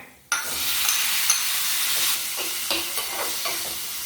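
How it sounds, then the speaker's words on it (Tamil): Chillies, ginger, garlic and tomato sauté in a hot pan, with a steady close sizzle and occasional stirring scrapes throughout, and no voices. "கொத்தமல்லி வரை, மிளகாவத்தல், இஞ்சி, பூண்டு 1 நிமிஷம் வதக்கிக்கோங்க"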